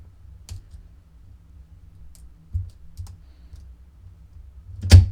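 Sparse, faint clicks of lock pins as an Abus "Nameless Fox" lock is picked, a few tiny ticks spaced out over quiet, ending with a louder click.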